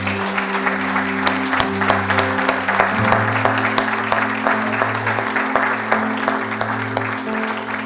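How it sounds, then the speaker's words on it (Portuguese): A church congregation applauds during a worship service, a steady dense wash of clapping that runs the whole time over a sustained low instrumental drone. "Vamos aplaudir a Deus mais uma vez?"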